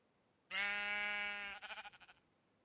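A single sheep in Minecraft lets out one long, wavering bleat that breaks into a stuttering tail, clear against a quiet background.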